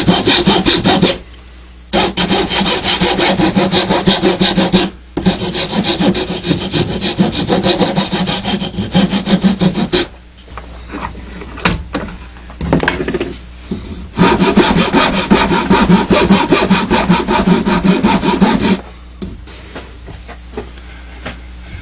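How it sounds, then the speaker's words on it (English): Hand file rasping on wood for a kids' toy, long loud continuous strokes with a few short pauses between passes, close up with no talking. "Just take your file,"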